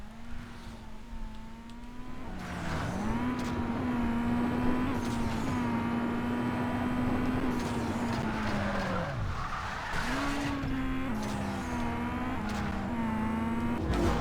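A BMW M3 in Need for Speed Most Wanted revs hard and steadily, its engine tone climbing and dropping with gear shifts while tires squeal and skid through much of the run, loud and close with no talking.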